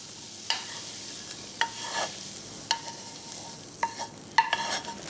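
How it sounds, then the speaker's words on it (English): Onions and green peppers sizzle softly in a pan, with a few sharp clinks and scrapes of a utensil spaced out over the quiet frying. "Now we're going to add the onions and the green peppers."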